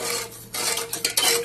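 A spoon stirs sugar in a cooking pot, scraping and clinking against the metal in quick irregular strokes with short pauses, close and fairly loud, no talk.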